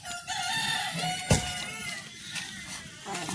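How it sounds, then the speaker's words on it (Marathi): A rooster crows at a rural village farmyard at dawn, a fairly close call rising over steady background chatter and birdsong, with a sharp burst near the middle. "कोंबडा बाग देतोय"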